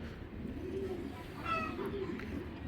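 Racing pigeons for sale coo softly in a couple of brief, low murmuring bursts over steady background noise, with no talking in between.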